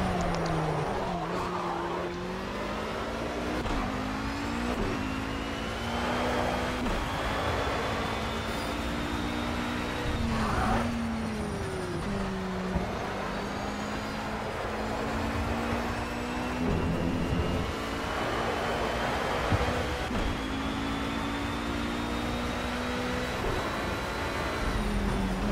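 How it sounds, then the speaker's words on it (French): A GT touring race car roars through the Sonoma circuit in the Project CARS racing game, its engine note rising and falling steadily through gear changes and corners, with occasional tire squeal, loud and continuous without talk. "Je vous laisse apprécier un petit peu les bruits du moteur aussi."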